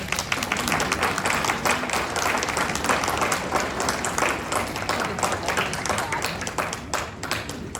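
An audience at a town candidates' forum in Didsbury applauds steadily for nearly eight seconds, a dense, even wash of many hands clapping, fairly close and without speech.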